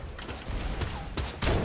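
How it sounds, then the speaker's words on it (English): Several bursts of video game gunfire, with the final hit of a winning shot, come in quick uneven clusters across a short span, loud and up close, with no talking. "Hit the last shot I needed for the win."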